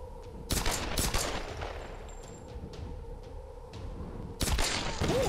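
Gunfire in the Tomb Raider video game, a few sharp shots spaced apart over a low rumbling game ambience, with a louder burst near the end.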